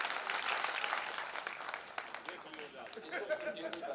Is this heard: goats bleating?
no